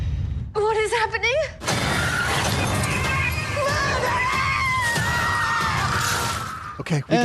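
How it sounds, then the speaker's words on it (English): Loud screaming from a horror film jump scare, a high wailing cry breaking out after a brief quieter moment and sustained over a dense, chaotic crash of noise before cutting off abruptly. "The screaming begins."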